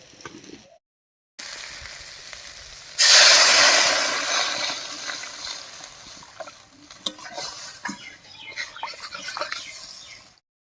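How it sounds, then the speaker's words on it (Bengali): Water hits a sizzling spice paste for pangas fish curry, bursting into a loud hiss after a short silence, then settling into bubbling and stirring clatter that fades unevenly. "এবার ঝোলের জন্য জল দেবো"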